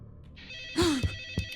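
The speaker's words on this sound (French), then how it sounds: "Ah, il y a un téléphone qui sonne." A telephone rings inside a horror video game themed around MrBeast: a sustained electronic ringing with bright tones, a rising swoop partway through and a couple of sharp knocks, heard with no talking.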